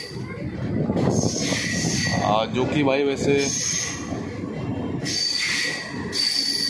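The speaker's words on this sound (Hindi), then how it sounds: "ट्रेन हमारी आ चुकी है मेचादा रेलवे स्टेशन में" The Paharia Express pulls into platform one at Mechada railway station, its wheels squealing over a steady rail rumble while someone talks over the noise.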